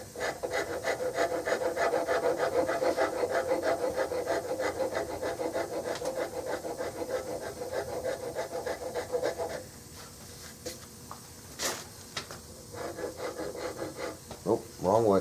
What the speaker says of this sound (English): The smoother I can get it with a file, the less sanding I have to do.